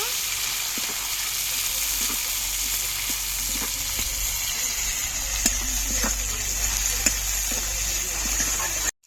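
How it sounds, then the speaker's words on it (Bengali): Chopped onion and tomato fry in a pan for a peas-and-potato curry, giving a steady, close sizzle that runs throughout with faint clicks of stirring scattered over it. "পেঁয়াজ আর টমেটোটা ভালো করে ভেজে নেব"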